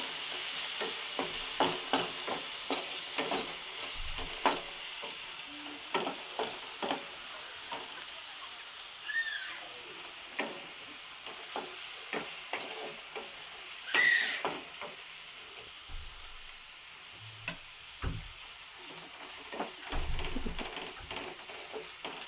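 Tomatoes frying with a little turmeric in a pan for a goat brain fry, giving a steady close sizzle broken by frequent scraping stirs and clinks of a spatula, with no talking.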